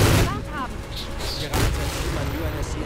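Explosions in the Halo 4 video game (The Master Chief Collection on Xbox One) come as a cluster of booming blasts, oddly distorted and crackly, with chirping game effects and a speaking voice mixed in.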